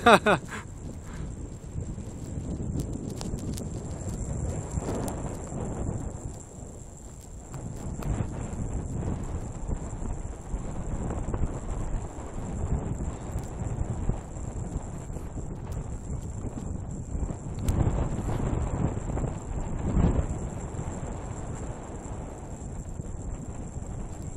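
Wind roars and buffets the microphone while sailing, a steady rushing noise with gusty swells that runs throughout, with a constant high whine on top and voices talking at times.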